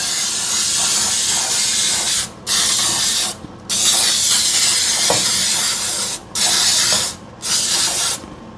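Water sprays continuously at close range while dishes are being cleaned in a kitchen, a loud steady hiss cut by four brief pauses.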